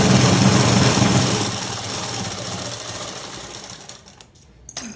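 Sewing machine stitching a blouse, a dense steady buzz that runs loud, eases off after a couple of seconds and cuts to near quiet before a brief final burst.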